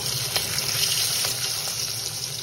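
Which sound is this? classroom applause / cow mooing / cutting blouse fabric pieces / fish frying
fish frying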